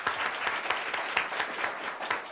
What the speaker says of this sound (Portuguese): E vamos aplaudir, né, o nosso palestrante.